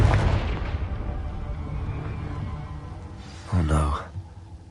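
A Confringo blasting-curse explosion in the video game Hogwarts Legacy: one short, deep boom near the end, following a rumbling stretch, with a voice present in the mix.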